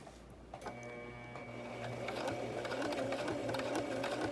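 Sewing machine stitching a ribbon skirt applique, running in a steady close whir with rhythmic needle ticks that build and continue without pause.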